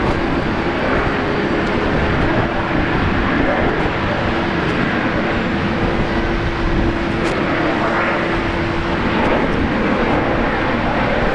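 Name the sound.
Virgin Australia flight 309 from Melbourne arriving at Brisbane Airport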